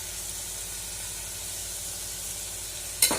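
Turmeric powder sautéing in a pan for paruppu sadam produces a soft, steady hiss of frying oil, faint and even throughout, ending with a brief clink, with no talking.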